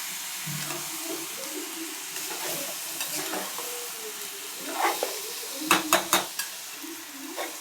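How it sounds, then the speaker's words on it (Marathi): Ingredients for masoor pulao sautéed in a pan, a low sizzle with stirring, ending in a few sharp clinks of the spoon against the pan. "छान परतून घ्यायचं"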